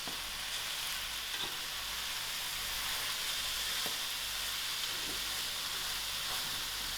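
Lamb mince frying in a pan with grated tomatoes, a steady loud sizzle and hiss running continuously with a few faint stirring clicks and no talk.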